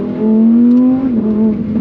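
Brief close rev of a naturally aspirated, non-hybrid Lamborghini engine, a steady loud tone that swells and dips slightly over under two seconds.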